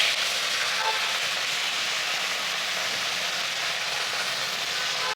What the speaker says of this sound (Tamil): நம்ம இப்படி வதக்கிடலாம்.